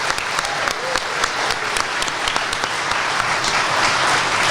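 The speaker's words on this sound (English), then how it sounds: "Give yourself a round of applause." A live-event audience at a car enthusiasts' gathering in London gives a steady round of applause, dense clapping close and loud throughout, with a faint voice underneath.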